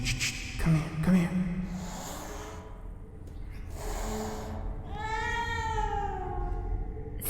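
Cat meowing in the video game STASIS, a few drawn-out, wailing cries that rise and waver, with breathy snorts and rustling between them and occasional soft talk.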